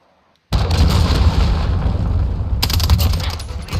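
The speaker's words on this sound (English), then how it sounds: "Enemy cruise missile." A cruise missile strike in a Call of Duty Modern Warfare hardcore team deathmatch on the Crash map bursts in abruptly after near silence, a loud rumbling blast that lingers, with a sharper crackle of secondary impacts near the end.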